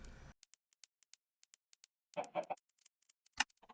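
Chickens in the Minecraft video game cluck softly in a few short bursts, set among sparse, quiet clicks against near silence.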